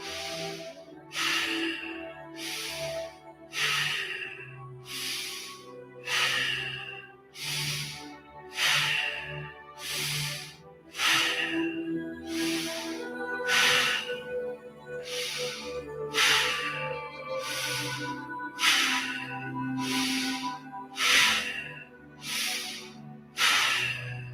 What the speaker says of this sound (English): let's do this together, beginning with 30 rounds of bow breathing